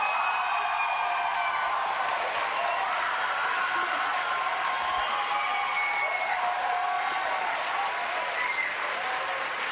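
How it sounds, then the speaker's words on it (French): Studio audience at a French television gala applauding steadily, a dense continuous wash of clapping that stays even and fairly close throughout, with faint voices in the crowd. "c'est pour venir chercher ta dose d'applaudissements?"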